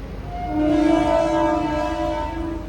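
A train at Bollaram railway station sounds a sustained, tonal horn at moderate distance, holding for a couple of seconds over a rumbling background, with no talk.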